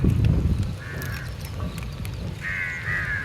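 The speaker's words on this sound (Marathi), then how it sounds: "कावळ्यांना पण खायचं असतं" Crows cawing on a hilltop: two harsh, drawn-out calls at mid-distance, the second longer, over a low rumbling background.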